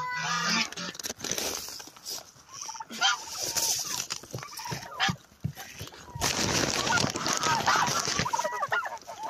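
Farm turkeys gobble repeatedly in bursts, loud and close, with a dog barking among them and brief human sounds mixed in.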